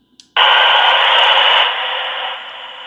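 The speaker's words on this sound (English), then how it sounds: "if we go to squelch off, it should give us rushing noise" Steady loud rushing hiss from a SINCGARS AN/VRC-92 military radio speaker with squelch switched off, starting abruptly after a faint click and running continuously, easing slightly in level partway through.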